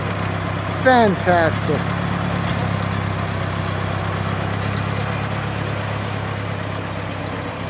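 A 1919 Templar roadster engine idling and running rich, a steady low rumble close by with a voice speaking briefly over it near the start.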